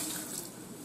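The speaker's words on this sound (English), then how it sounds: "So just put enough water" Water pouring steadily from a tap into a cooking pan of green beans, a continuous soft splashing stream with no talk over it.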